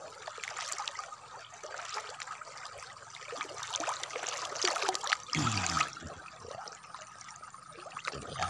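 Clear river water flows and trickles steadily over stones, a soft continuous babble with a brief louder splash about two-thirds of the way through.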